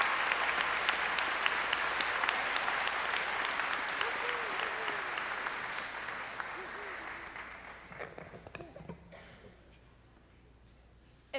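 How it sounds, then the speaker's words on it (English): Sustained audience applause at a high school commencement, dense and steady for about eight seconds before thinning out into scattered claps and a late sharp pop. "we all should give it a round of applause to all the parents and family that are here to support us"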